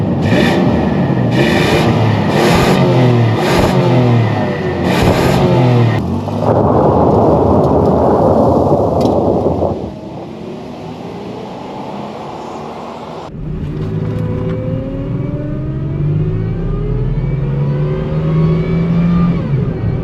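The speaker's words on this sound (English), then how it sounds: "we're going to do a little bit of a 0 to 60, both zoom by and also from a point of view perspective" A supercharged Nissan Frontier pickup accelerating hard from a standstill to 60, its engine loud and close, revving up through rising pitch sweeps with gear shifts, then easing before pulling strongly again.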